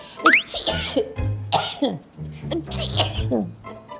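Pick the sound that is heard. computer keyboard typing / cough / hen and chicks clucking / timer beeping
cough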